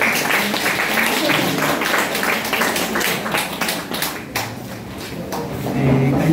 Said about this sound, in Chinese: 热烈掌声